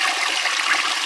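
A toilet flushes from a homemade tank styled like a Lamosa Sahara, a loud, close, continuous hiss and rush of water with no talking.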